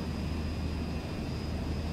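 Steady broadband engine drone of a Wyvern S4 aircraft in War Thunder gameplay, an even continuous roar with a faint high whine on top, moderately quiet and unbroken throughout.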